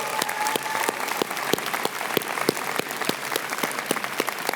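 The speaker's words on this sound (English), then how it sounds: "Let's give your families a huge round of applause" A convocation audience applauds the graduates' families, with dense, sustained clapping from a large crowd and sharp individual claps standing out, steady and fairly close throughout.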